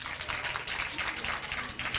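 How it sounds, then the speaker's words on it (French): An audience applauds for the singers at a Christian singing contest broadcast, broad steady clapping lasting the whole short stretch at moderate level. "que je demande d'applaudir très fort"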